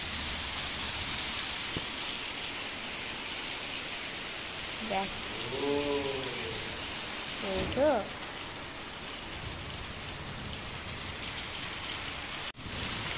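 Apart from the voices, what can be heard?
rain falling outside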